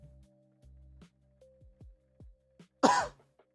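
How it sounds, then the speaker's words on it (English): A single sharp throat-clearing cough bursts out close to the mic, short and loud against a quiet background with a low hum and soft clicks. "you could still hear me cough"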